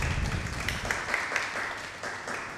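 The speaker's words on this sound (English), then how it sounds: "Can we give her a round of applause?" An audience at a training program closing ceremony applauds, a lively burst of many hands clapping that stays fairly loud and eases slightly toward the end.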